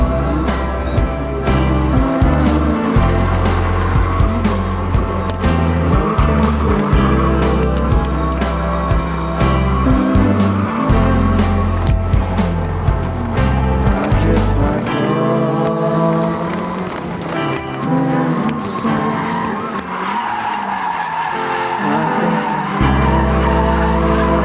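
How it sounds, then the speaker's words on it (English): A Mazda Miata drifting on a track at a drift event, engine revving and droning loud and close as the tires squeal and skid in long sustained stretches, with no talking. "Ready for the first test lap. First laps in the Miata."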